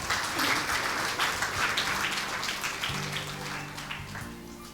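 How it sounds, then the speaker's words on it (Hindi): A church congregation clapping together during a Hindi sermon, dense steady applause from many hands, with a low sustained musical tone underneath toward the end. "तालियां बजा के प्रभु का धन्यवाद।"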